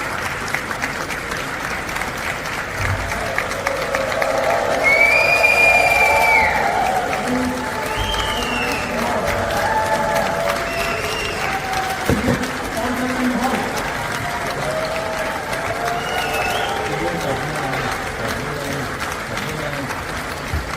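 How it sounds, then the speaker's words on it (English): Crowd clapping and cheering at the UN for a Netanyahu speech, sustained applause with scattered whistles and shouts, with a voice talking over the noise throughout. "the clapping and cheering you're hearing"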